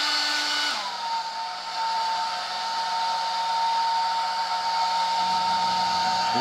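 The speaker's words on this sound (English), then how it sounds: "So, warm air directly on the glue." A hair dryer blows warm air onto glue on a hair replacement system, a steady close whooshing drone that drops slightly in pitch early on and then holds evenly with no talking.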